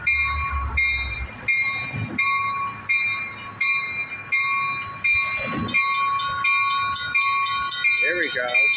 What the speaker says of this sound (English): It's the California State Railroad Museum circulation train.